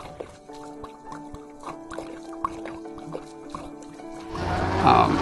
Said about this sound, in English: And just stirring in the water, mixing it around.